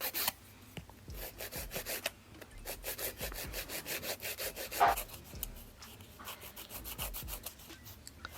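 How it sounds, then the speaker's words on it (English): A nail file works rapidly back and forth across gel x nail tips, giving a steady, quiet rasping rhythm of many short strokes, close up and alone. "I cut the corners and the tip off, and we start filing."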